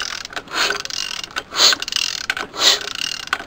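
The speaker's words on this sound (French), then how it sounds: "mon ressort a vraiment appuyé au niveau du galet tendeur et ma courroie, elle a une tension" On an XUD engine, the timing belt tensioner pulley and spring work into place, heard as close, dry ratcheting mechanical clicks in several short bursts separated by quieter gaps.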